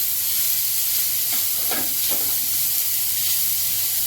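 Onion, grated cabbage and grated carrot stir-fried over a high gas flame for veg momo filling, a loud continuous hiss and sizzle with a few brief scraping stirs in the middle, close and without talking.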